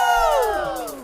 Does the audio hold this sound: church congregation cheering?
yes